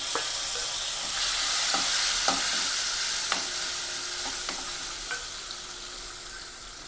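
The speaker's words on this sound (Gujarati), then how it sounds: "ટામેટોને આપણે થોડી વાર સાંતળવા દેશું" Garlic and tomato sautéing in a pan for a green onion sabzi, a steady soft sizzle with several sharp scraping strokes of a spoon stirring throughout, close and moderately loud, with no voices.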